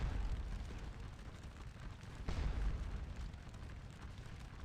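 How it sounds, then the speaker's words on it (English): Artillery fires in the Napoleonic-era Scourge of War battle game, with a single distant, muffled boom midway through over a steady low rumble of battlefield ambience. "some of our artillery turned around and is shooting back at this infantry that's exposed itself."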